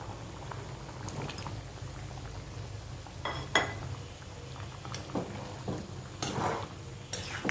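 A Bengali fish curry simmering gently in a pot, with a soft, steady bubbling and occasional small pops and faint clinks close by, with no talking.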